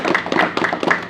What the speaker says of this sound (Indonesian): Tepuk tangan yang keras.